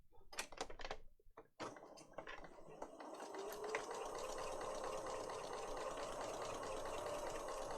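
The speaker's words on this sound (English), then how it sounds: "I'm just going to sew along, just along the top of there. So it's just a straight stitch right along the top." Sewing machine running a straight stitch along the top edge of a lap book journal. After a few clattering handling sounds, a steady, faint motor whir hums continuously.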